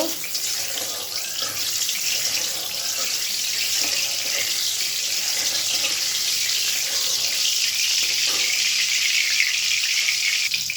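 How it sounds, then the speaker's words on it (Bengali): Hilsa fish heads frying in hot oil with black cumin and green chillies, giving a dense, continuous hiss and crackle that stays loud and even throughout at close range. "তেলটা গরম হয়ে গেল কালো জিরে আর কাঁচা লঙ্কা দিয়ে দেবো মাথাগুলো ভেজে নেব"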